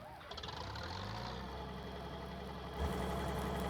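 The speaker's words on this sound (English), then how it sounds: "Oh yes, got some good engine sounds" Combine harvester engine in Farming Simulator 19 starting up, its pitch rising before it settles into a steady low idle rumble, close and fairly loud.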